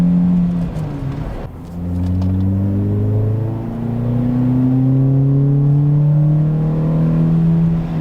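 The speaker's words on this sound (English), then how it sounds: "And the sound of the engine is excellent." A Toyota Matrix XRS engine revs while driving, its tone climbing steadily after a brief dip as it pulls through the gears, a loud, smooth rising drone with no talk over it.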